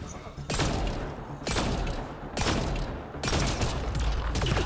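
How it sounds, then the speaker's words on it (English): A shotgun fires in Mass Effect Andromeda, four heavy booming blasts spaced roughly a second apart, loud and close over steady game background. "Man, this shotgun is a lot more accurate though."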